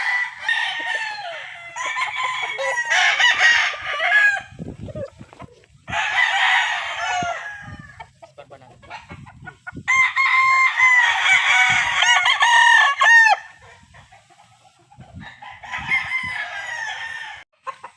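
White Kelso gamecock roosters crow repeatedly, their loud cock-a-doodle-doo calls coming close in several long bouts separated by short pauses and scattered clucks.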